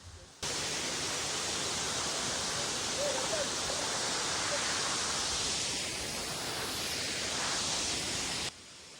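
Jhari waterfall near Chikmagalur in Karnataka pours as a dense, steady roar of rushing water heard up close. The noise holds at an even level throughout with no break.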